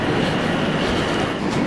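A 12-car Stansted Express train in London, a steady loud rumble of wheels and carriage noise running continuously without pause.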